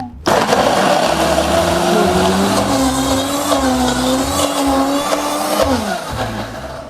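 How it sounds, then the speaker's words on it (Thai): A powerful high-speed blender whirs loudly and steadily, blending Shine Muscat grapes into a smoothie, with a sustained motor whine whose pitch sags and rises as the load shifts, running for several seconds before easing off. "โอ้โหเครื่องปั่นอะไรวะ แรงจริง"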